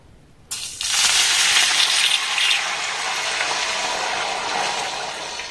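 A bowlful of water poured into a hot pan of coconut, rock sugar and ghee ingredients. It starts with a sudden loud rushing gush that settles into a steady hissing sizzle for several seconds, with no voices.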